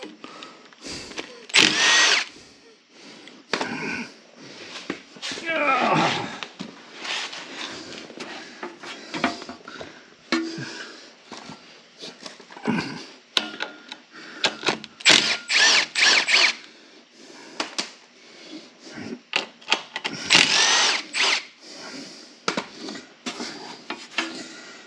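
A power drill backs bolts out of a Troy-Bilt lawn mower in many short, uneven whirring bursts, with clanks and rattles of metal between them, heard close up.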